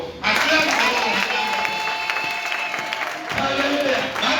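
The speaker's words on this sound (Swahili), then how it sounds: "Piga mbele makofi. Acclame d'abord." A church congregation bursts into loud, sustained applause that fills the space for several seconds, dips briefly, then swells again.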